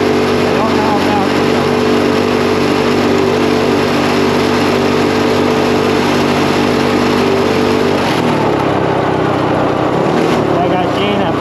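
A go-kart engine running at full power, roughly 5,500 RPM, makes a loud, steady, raspy drone close by that shifts and eases after about eight seconds.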